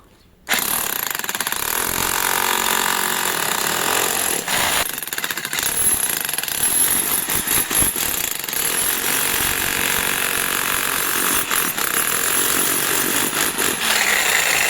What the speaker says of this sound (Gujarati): આ મશીન ચાલુ કરી બ્રેકર મશીન